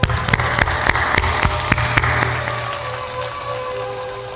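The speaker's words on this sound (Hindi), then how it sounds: "ऊपर ऊपर ताली भी बजा दो।" Audience clapping with hands raised overhead at a spiritual discourse, a fairly steady patter of claps with a few sharper hits early on, fading and thinning toward the end over a low hum.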